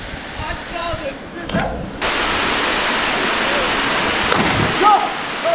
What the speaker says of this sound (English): Jumping from the bottom waterfall of Swallowtail.